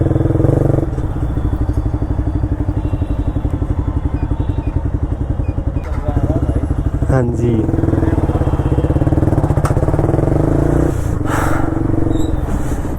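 A motorcycle engine runs steadily up close, with a low, pulsing throb and some clatter and thumps partway through. Someone speaks briefly over it.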